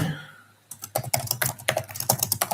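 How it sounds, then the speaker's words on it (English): Rapid computer keyboard typing starts after a brief quiet moment, with steady close clacking keystrokes continuing to the end. "typing sound is too much"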